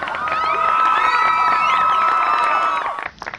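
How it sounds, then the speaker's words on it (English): A crowd cheers and whoops loudly with shrill, sustained high voices and some children's shouts, holding for about three seconds before dropping off abruptly into quieter noise. "Let's give them a round of applause"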